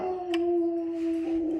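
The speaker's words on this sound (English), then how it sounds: "That's the dog." Dog howls outdoors in one long sustained tone, a clear, moderately loud wail that stays level before trailing off, heard alone without talk.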